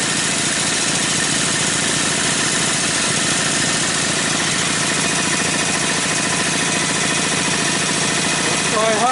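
Briggs & Stratton opposed-twin 18 hp engine with dual carburetors and dual exhaust, running in a workshop with its drive wheel removed, a loud, steady close-up drone with a continuous throbbing beat throughout.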